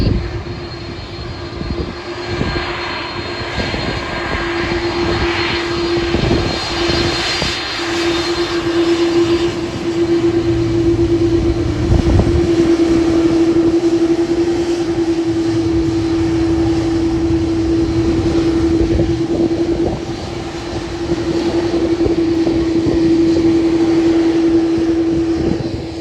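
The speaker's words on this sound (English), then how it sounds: "So we have a Qantas 737 and A330." Qantas jet airliners, a Boeing 737 and an Airbus A330, heard at Sydney airport as a sustained engine roar with a steady whine that stays loud and fairly close throughout.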